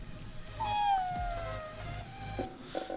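A cat merchant in the video game Ghostwire: Tokyo lets out a single drawn-out, falling meow, clear and fairly close over a low game-ambience hum, with a soft thump near the end.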